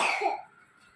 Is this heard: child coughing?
yes